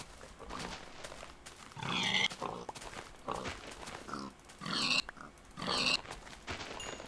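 Pigs on a pig farm in a video game grunt and oink in several separate bursts over about seven seconds, fairly close and alone with no talk.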